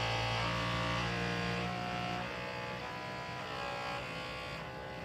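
A Bambu Lab P1S 3D printer running its calibration routine gives a loud, steady mechanical buzz and hum with shifting tones, close up and continuous, with no speech.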